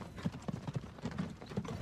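Horse hooves clop in a quick, uneven rhythm on a snowy road as a horse-drawn snow plow moves along, soft and fairly close with no voices.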